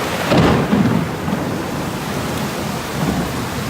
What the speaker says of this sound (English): Another flash, listen for the thunder.